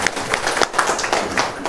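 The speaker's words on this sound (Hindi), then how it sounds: "ताली बजाइए भाई सब" An audience at a farmer producer organisation training session gives a short burst of scattered, uneven hand claps.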